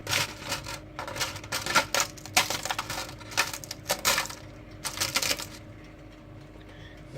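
Dry, crispy chillies crackle and crunch while being crushed into flakes, close and loud in irregular bursts of brittle snapping that stop and start, then fade to quiet near the end.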